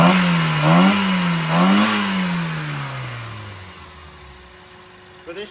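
A car engine revs up in rising and falling surges, then winds down toward a steady idle, loud and close.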